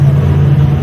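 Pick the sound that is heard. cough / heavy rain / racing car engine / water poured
racing car engine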